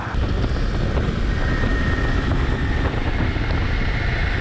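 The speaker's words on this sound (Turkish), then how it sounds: "Baya baya bir rüzgar var." Loud, constant wind roaring and buffeting the microphone, a steady low rumble with no let-up and no voices.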